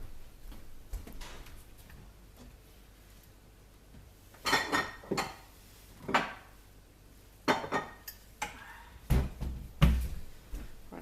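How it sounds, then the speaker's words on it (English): A strainer is set over a regular kitchen bowl, producing a handful of light hollow knocks and clinks spaced a second or two apart against quiet room background. "Go ahead and set this strainer over the bowl."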